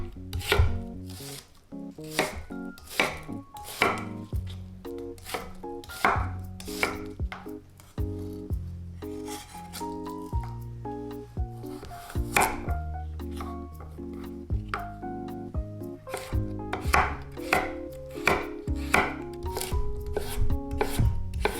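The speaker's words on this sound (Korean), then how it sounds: "양파와 파, 당근은 1cm 정도 한입 크기로 잘라줍니다." Onion, green onion and carrot are chopped into small bite-size pieces with a knife on a cutting board, a steady run of close, crisp knife strikes that speeds up and slows down over a low background tone.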